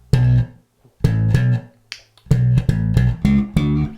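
A slap bass line, played alone as a string of punchy, percussive slapped and popped notes in short melodic phrases separated by brief gaps.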